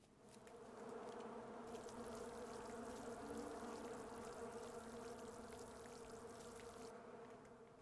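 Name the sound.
buzzing bees in a video game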